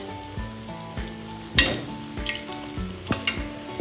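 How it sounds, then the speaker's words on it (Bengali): Dried red chillies fry in oil in a pan for a meat dish, giving a light sizzle broken by clinks and scrapes of a utensil against the pan, close and fairly quiet. "শুকনো মরিচগুলো আমি একটু ভেজে নিব"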